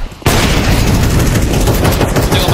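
Gunfire erupts in a Counter-Strike 2 match, a sudden loud burst of rapid shots that runs on continuously after a brief quiet start.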